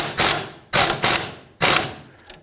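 A 15mm wrench ratchets on a control arm bushing nut on a 2015-2020 GMC Yukon front lower control arm, in three sharp metallic bursts of clicking, close and loud, each fading quickly.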